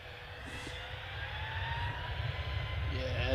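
A Ryanair jet's engines spool up as it turns on the runway at Manchester Airport, a broad steady roar slowly growing louder with a rising whine, faint voices underneath.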